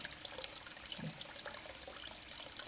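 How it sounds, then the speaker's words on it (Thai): Sweet potato tubers are rinsed under a running kitchen tap, giving a quiet, steady stream of splashing water with small knocks and trickles as they are handled in the sink. "แล้วเราก็ล้าง ล้าง ล้างให้สะอาด"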